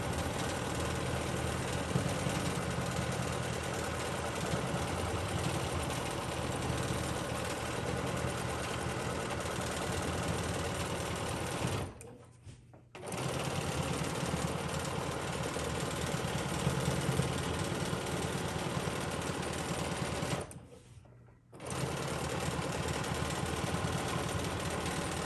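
A sewing machine runs steadily while stitching quilting arcs in an arc flower motif, its fast mechanical whir continuing unbroken apart from two brief pauses where the stitching stops.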